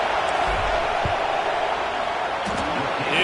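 A roaring football stadium crowd during a field goal attempt at a college game, a steady, dense wall of cheering and noise from thousands of fans with a commentator's voice heard over it.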